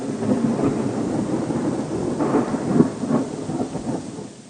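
Rolling thunder rumbles through steady rain, a sound effect with several deep swelling peaks over a constant patter, loud and close with no voices.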